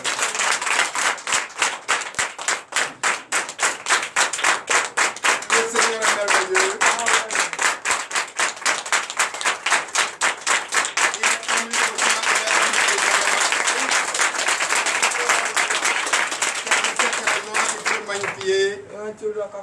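Rhythmic congregational clapping in unison during a Sunday church service in Benin, sustained and loud, with voices speaking and singing over the steady beat.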